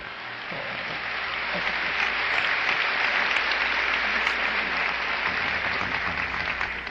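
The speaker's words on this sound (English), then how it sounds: "it's premature, your applause" Audience applause during a lecture by Viktor Frankl on believing in a person; a large hall crowd claps in a dense, sustained wash that swells and holds for about seven seconds without talk.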